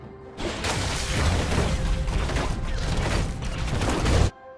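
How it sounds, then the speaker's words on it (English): In the League of Legends game, Tristana's explosive charge and rapid fire give a dense, continuous burst of crackling shots and booms, loud and unbroken for about four seconds before cutting off. "Start by tagging your target with explosive charge, hitting rapid fire after so you can charge up the bomb as quickly as possible"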